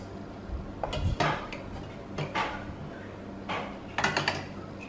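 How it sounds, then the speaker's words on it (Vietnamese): Ceramic bowls set one by one into a pot of water in a home kitchen, giving several light clinks and knocks spaced a second or so apart over a low background hum. "Bây giờ mình xếp những cái chén của mình nó vô cái nồi nước này nha."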